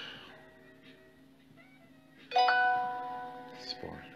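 A doorbell chimes once in a quiet room, a clear ringing tone that rises suddenly and fades, with low room hum and faint voice sounds around it.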